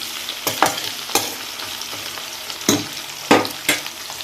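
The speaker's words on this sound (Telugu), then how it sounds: "ఇప్పుడు ఇవన్నీ అయితే మనం అయితే మంచిగా ఫ్రై చేసేసుకుందాం." Amaranth leaves and about a dozen garlic cloves fry in a pan with a soft continuous sizzle, broken by several sharp scraping stirs of a spatula, close and moderately loud.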